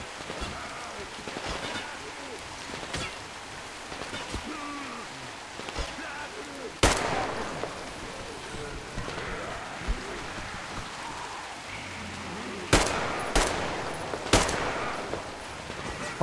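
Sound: gunfire in the video game Metro Exodus

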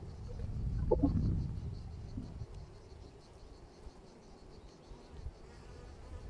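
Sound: honeybees buzzing at open hive during inspection

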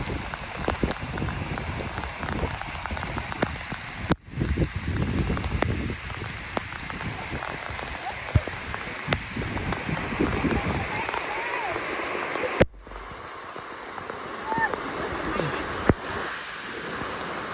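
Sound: rain falling

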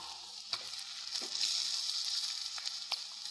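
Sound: chicken added to hot pan, frying for chicken curry

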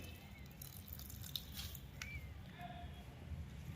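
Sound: water squeezed and dripping out of grated cabbage

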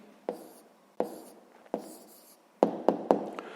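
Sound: pen writing down an answer by hand

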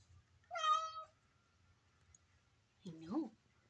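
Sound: cat meowing

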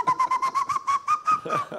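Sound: person imitating an owl hoot

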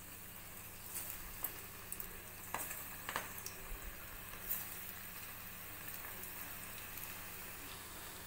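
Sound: lentil dumplings deep-frying in hot oil in a kadai

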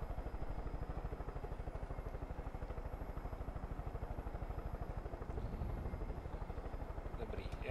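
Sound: helicopter landing in video game Far Cry 5

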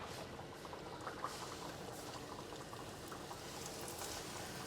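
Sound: vergunі dough pastries dropped into hot oil, frying

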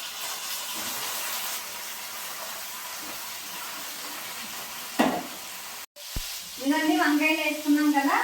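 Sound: eggplant pieces sizzling as added to hot pan

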